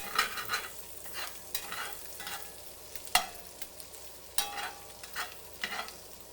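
Flour being stirred into melted butter in a cast iron skillet, with repeated scraping strokes and a soft sizzle in an uneven rhythm, close and fairly quiet, with no talking.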